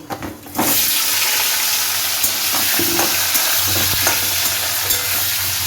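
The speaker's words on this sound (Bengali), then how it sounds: "এবার আমি এখানে দিয়ে দিচ্ছি একটু পাঁচফোড়ন, এই যে, আর দিয়ে দেব ভেজে রাখা ফুলকপি আলুটাও দিয়ে দিচ্ছি।" Fried cauliflower and potato with panch phoron hit a hot pan and burst into a loud, continuous sizzle, with occasional stirring scrapes over the steady hiss, close up.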